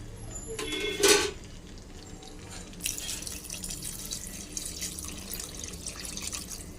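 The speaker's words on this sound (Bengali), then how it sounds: "এবার দিয়ে দেব জল" Water poured into a cooking pan while making chili paneer with soybean, a brief splashing gush followed by a soft, steady trickling and sizzle in a home kitchen.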